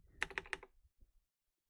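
A quick burst of three or four crisp key clicks on a computer keyboard, close and isolated, followed by a couple of faint softer taps and near silence.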